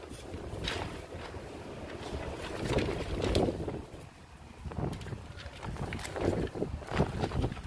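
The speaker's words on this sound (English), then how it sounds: "What a windy day today," Gusty wind buffets the microphone in rising and falling surges, a loud rumbling roar that swells and eases over several seconds.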